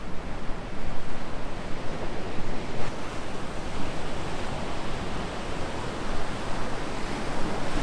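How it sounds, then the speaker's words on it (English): Ocean surf breaking at a beach, a continuous broad wash of waves with gentle swells in loudness, steady and fairly close, with no voices over it. "There's some pretty special waves out there today"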